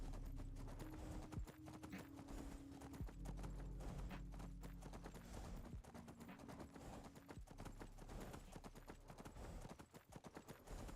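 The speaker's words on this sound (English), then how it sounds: "The one thing about the horses is they are kind of loud" Horse hooves clip-clop in a steady, continuous rhythm in the video game Skyrim, fairly close, with a faint whinny mixed in.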